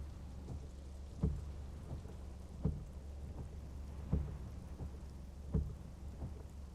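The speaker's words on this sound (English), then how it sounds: "That's the heavy thunder." Heavy rain pours steadily in Assetto Corsa with the Sol weather mod, broken by four deep thunder rumbles roughly every one and a half seconds; no voices are present.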